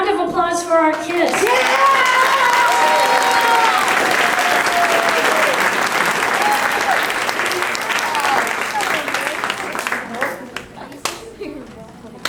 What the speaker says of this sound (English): So one more round of applause for our kids